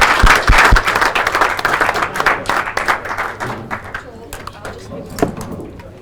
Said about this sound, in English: Round of applause for both players for an absolutely fantastic final.